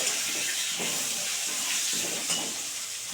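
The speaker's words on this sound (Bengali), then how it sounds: "একটু ভালো করে আলুটা ভেজে নেব।" New potatoes fry in a pan with black cumin seeds, a loud, continuous close sizzle and hiss with faint stirring scrapes, no voices.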